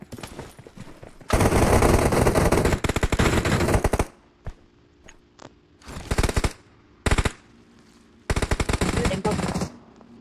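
Rapid bursts of automatic gunfire in PUBG Mobile, loud and close, with several long sustained volleys broken by brief gaps and a few short single cracks.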